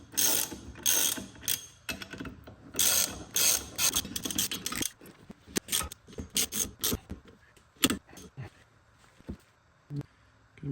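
A ratchet clicks in quick repeated bursts while tightening 19 mm ball joint bolts on a Lotus Elise S1, loud strokes at first, then sparser clicks, clanks and handling noises.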